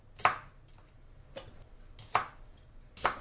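A shallot being cut in two on a board, with four sharp knife chops spaced about a second apart, crisp and close, with no voices.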